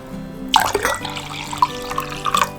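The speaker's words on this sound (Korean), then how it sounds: "이렇게 1컵 분량에다가 물은 1컵 더 부어주세요" Water poured into leftover red-bean cooking liquid while preparing five-grain rice for an electric rice cooker, heard as a close, splashy stream with a few gurgling bursts.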